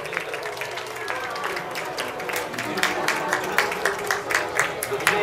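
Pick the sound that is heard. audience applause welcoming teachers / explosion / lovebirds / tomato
audience applause welcoming teachers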